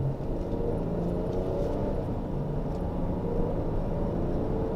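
Dodge Durango SUV in race mode with a Roar throttle pedal fitted, accelerating hard, a deep steady rumbling engine roar heard from inside the cabin, loud and unbroken with no talk.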